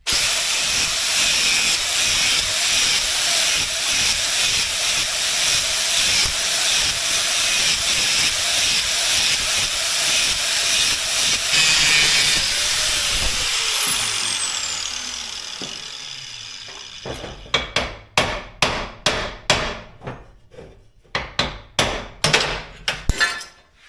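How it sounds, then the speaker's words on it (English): A cutting tool whines steadily against a weld on a steel drive shaft yoke, winding down before a run of sharp, rhythmic metallic hammer-like impacts rings out close by. "I'm going to cut in the back side of the weld over here until it comes loose, and then I can grind this out"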